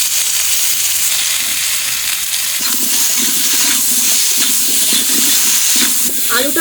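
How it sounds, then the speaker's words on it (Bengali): Potatoes frying in mustard oil left over from frying fish, a continuous close sizzling hiss with rhythmic scraping and stirring strokes from a spatula in the pan during the second half. "এখন আলুটা মাছ ভাজা তেলে ভেজে নেব"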